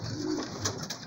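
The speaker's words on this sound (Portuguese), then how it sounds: "Aí tô aí pra mostrar os pombinhos vocês aí, ó." Homing pigeons coo softly in a loft, a low throaty call with faint rustling and chirps around it, no talk.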